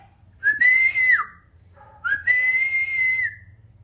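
Two long, clear whistled notes, each rising and holding steady, close and fairly loud, with a short pause between them.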